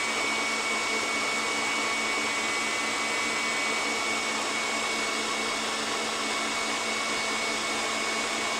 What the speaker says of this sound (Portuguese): Vou diminuir um pouquinho aqui a velocidade da minha batedeira, para não espirrar.